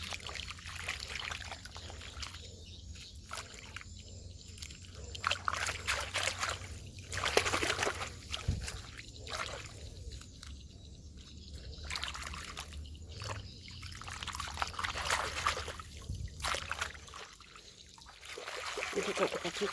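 Freshly harvested basil is swished and rinsed in pond water, giving soft intermittent splashing and trickling in repeated bursts, fairly faint, with people talking over it at times.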